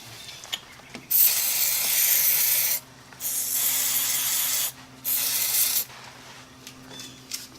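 Three bursts of spray lubricant hissing close by during a front spring replacement, the first longest, separated by brief pauses, over a faint low hum.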